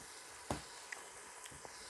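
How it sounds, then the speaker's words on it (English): A steak sizzles in a Ninja Foodi multicooker pot, a faint steady hiss of frying fat broken by a few small pops and crackles, with no talking over it. "the steak's really sizzling."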